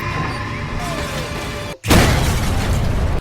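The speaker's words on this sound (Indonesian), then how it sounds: "Pertarungan tersebut membuat gerobak angsa jatuh dari atas bukit dan meledak." A loud boom bursts out after a brief silent gap, following cluttered action noise, as an animated cart falls from a hilltop and explodes in a Kung Fu Panda film, then a sustained roaring blast with debris.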